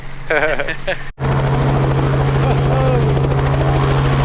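A helicopter touches down on snow, its rotor and turbine producing a loud, steady thrum and whine close by after a brief burst of talk over the radio.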